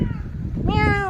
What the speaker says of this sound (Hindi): बिल्ली म्याऊं म्याऊं करी